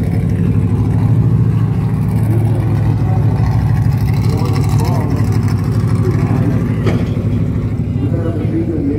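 A 1970 or 1971 Pontiac LeMans V8 fitted with an aftermarket cam idles steadily and loudly up close, with a constant low rumble and faint lope throughout, plus a brief sharp click near the end.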